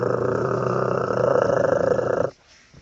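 A person imitates a growl with a rough, raspy, sustained roar about two seconds long, close and loud, then cuts off abruptly into quiet.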